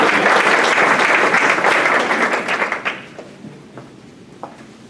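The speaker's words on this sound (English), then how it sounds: "And if you don't mind, you clap for the others," Dinner audience at a donor event applauding loudly, a dense burst of many hands clapping that fades away after about three seconds, leaving scattered claps and faint room noise.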